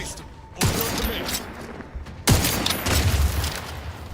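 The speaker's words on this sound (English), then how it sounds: "Whatever she's shooting is quite dangerous." Gunfire in the video game The Outer Worlds 2: two heavy, booming shots a couple of seconds apart, each followed by a dense rumbling crackle, loud and close.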